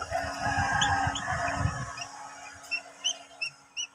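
Rhode Island Red and Basilan crossbreed chickens, with a busy mix of clucking and calls early on, then a few short, separate chirps and clucks standing out against a quieter background.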